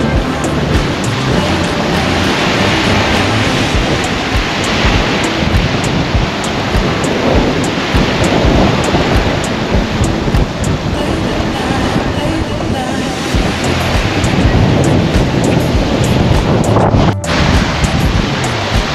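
Ocean surf at Shanzu Beach in Mombasa on the Kenyan coast, a continuous loud roar of breaking waves mixed with heavy wind buffeting the microphone.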